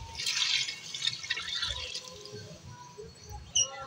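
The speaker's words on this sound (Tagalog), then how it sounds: "Lagyan tayo ng tubig mga idol." Water splashes and pours into a cooking pot holding sautéed garlic, onion, ginger and mung beans for a pork and vegetable stew, a bright rushing pour at first that thins into softer trickles and drips, close by.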